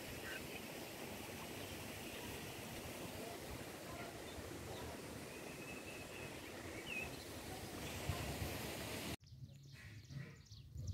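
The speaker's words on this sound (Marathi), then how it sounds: "पण पाण्याचा लगातार आवाज येतोय।" A small water channel beside a path near Tapola, Mahabaleshwar, flows with a steady, broad rushing wash throughout, fairly even in level, with a change in the background near the end.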